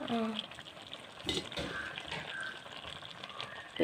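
Spices such as black pepper and mace frying in a little oil in a pan, a steady soft sizzle with occasional stirring clinks, close and moderately quiet.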